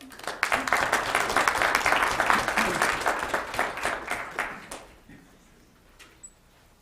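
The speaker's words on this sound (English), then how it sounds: "let's have one more round of applause" A crowd applauds loudly for several seconds, the clapping thinning out and fading to a few scattered claps at the end.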